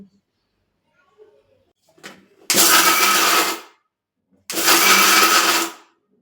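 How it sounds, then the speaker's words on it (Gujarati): A kitchen mixer grinder pulverizes sugar into powder in two loud bursts of about a second each, separated by a short pause, with faint handling clicks beforehand. "હવે આપણે મિક્સરમાં આને પીસી લેશું"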